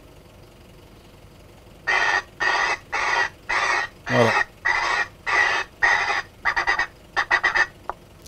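Loud recorded bird distress calls from an airport bird-scaring device, a string of harsh bursts repeating in a steady rhythm, then faster clipped pulses near the end, with one brief word spoken.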